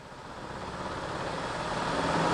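A Verteq 1600-55 spin rinse dryer rotor spinning up toward high RPM, a steady broadband whirring hum that swells gradually louder over a couple of seconds, close and alone.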